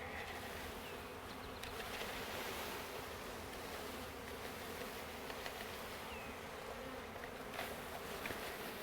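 A thick, steady buzz of a new package of honey bees being dumped into a hive close by, constant and loud, with occasional soft knocks and rustles beneath it.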